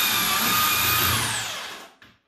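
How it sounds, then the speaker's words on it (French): A mixing machine whirs loudly while dry-blending lime mortar for repointing, a steady high motor whine that winds down and fades out near the end, followed by a brief knock. "on mélange le tout avec une machine pour bien faire à sec pour que ce soit bien homogène le mélange"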